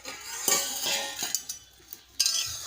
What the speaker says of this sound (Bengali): ঢাকনা খুলে দেখব।